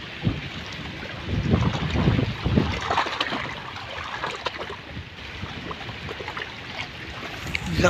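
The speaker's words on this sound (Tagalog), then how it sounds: "Lakas ng hangin." Strong wind gusts buffet the microphone on a small fishing boat near Mount Makiling, with a low rumbling roar that swells and fades over lapping water and no voices.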